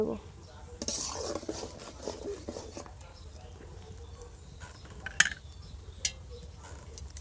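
Flat beans cooking with sugar in a pan, stirred with a utensil: soft, low scraping and shuffling under a steady background hum, with a couple of sharper clinks of metal against the pan near the end.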